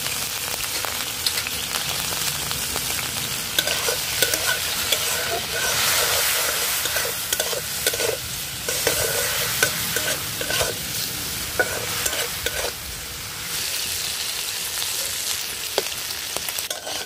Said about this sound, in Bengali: চিংড়ি ভাজা হয়ে গেছে